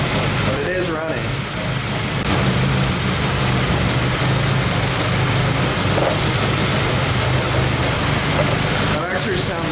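Honda K24 engine idling after being swapped into a BMW E30, running a little shaky with a possible misfire, with a steady low rumble throughout and people talking over it.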